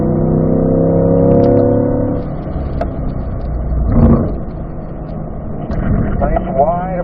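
A track car engine revs high and drops as it shifts into third gear, then pulls and rises again, with a voice talking over the engine noise.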